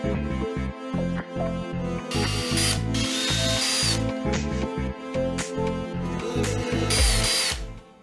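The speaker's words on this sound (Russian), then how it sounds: "Мы все 8 брусков просверлили" A power drill bores holes near the ends of eight 40 by 20 mm wooden bars, 65 cm long, for a cat bunk bed. It sounds as loud, close, repeated whining bursts with short pauses between them.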